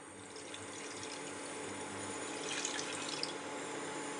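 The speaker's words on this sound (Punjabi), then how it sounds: "ਇਹਦੇ ਵਿੱਚ ਆਪਾਂ ਇੱਕ ਗਲਾਸ ਪਾਣੀ ਦਾ ਪਾ ਲੈਨੇ ਆ" A glass of water goes into a pot on a lit gas stove while preparing a homemade henna hair colour, giving a steady, soft pouring and running wash with no one speaking.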